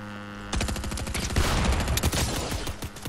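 Rapid automatic gunfire in Fortnite, fired while riding a dirt bike, starts abruptly after a low hum and continues as a loud, close burst of quick repeated shots for a few seconds.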